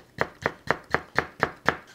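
A knife chops a deseeded vegetable into thirds on a cutting board, seven crisp, evenly spaced strokes in a steady rhythm, close and clear with no talking.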